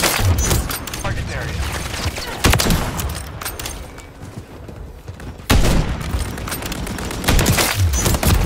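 Gunfire in the video game Modern Warfare III, bursts of rapid automatic shots and booming impacts in two loud clusters with a quieter gap between, while a player talks over it.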